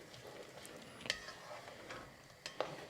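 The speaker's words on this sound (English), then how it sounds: "And let's just stir that around a little bit." A spoon stirs saffron through a pot of boiling shrimp, white bean and tomato soup, giving faint liquid swirls with a few light clinks against the pot over a soft bubbling background.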